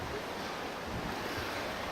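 Choppy open sea off Siracusa, Sicily, makes a continuous broad rushing wash of surf with wind buffeting the microphone, steady and moderately loud with no voices.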